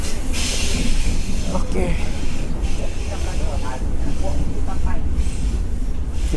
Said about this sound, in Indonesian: kita memasuki kereta cafe atau kereta makan